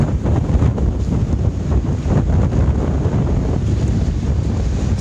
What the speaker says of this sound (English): Sorry for the wind. It's probably really bad for you.